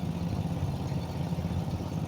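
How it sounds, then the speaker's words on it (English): Racing garden tractors with small engines and pipe mufflers rumble steadily in the middle distance, a brief, continuous, buzzy engine drone. "Those engines sound good though with them pipe mufflers."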